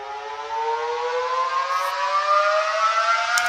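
Ableton Live 11 synth note made with MPE note expression, a bright harmonic tone that glides smoothly upward two octaves over several seconds, sustained and loud with no talking.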